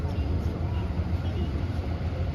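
A low, steady engine rumble of a boat on open water, continuous and fairly close, with a broad churning hum throughout.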